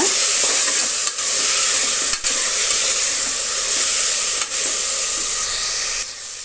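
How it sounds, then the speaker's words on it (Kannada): A soaked biryani ingredient fries in a pan with a steady, loud sizzling hiss, broken by a few brief clicks of stirring. "ಇದನ್ನು ಕೂಡ ಒಂದೆರಡು ನಿಮಿಷ ಫ್ರೈ ಮಾಡೋಣ"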